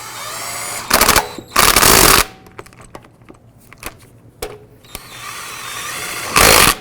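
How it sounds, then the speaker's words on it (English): Impact wrench snugging up lug nuts on a 2004-2009 Dodge Durango wheel during a hub assembly replacement: three loud, short bursts of buzzing rattle, separated by quiet pauses with faint clicks and handling sounds, close up. "Then we're going to go ahead and snug up the lug nuts."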